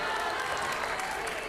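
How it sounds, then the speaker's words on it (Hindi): Audience applause at a live Hindi-language show, with sustained, dense clapping from a crowd filling the whole stretch at an even, loud level. "जोरदार तालियां हो जाए।"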